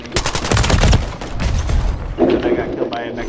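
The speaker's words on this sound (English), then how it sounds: "You're shooting friendly!" Rapid gunfire bursts from a first-person shooter video game crackle loudly for about a second, then a mix of further shots and other game noise continues, with voices talking over the action.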